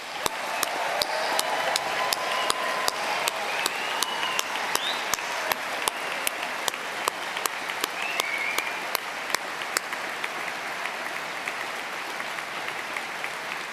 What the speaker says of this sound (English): please join us in giving all recipients of awards and prizes a final round of applause